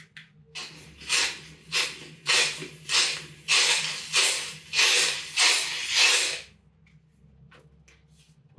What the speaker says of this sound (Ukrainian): Осінні листочки.